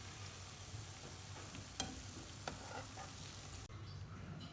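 Sweet tikki (meethi tikyan) frying in oil over a medium-low flame, a steady close sizzle and crackle with a couple of sharp pops, cutting off abruptly near the end.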